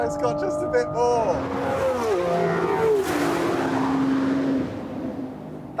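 A Ferrari 12C and an Aston Martin Vanquish drag race, their engines rising sharply in pitch through loud accelerating runs with gear changes, voices talking over the roar.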